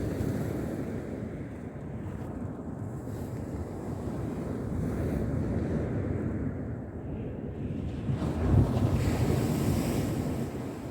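Sea waves and wind at Corton on the UK coast wash and gust steadily outside a fishing bivvy, with a louder surge near the end and no talk.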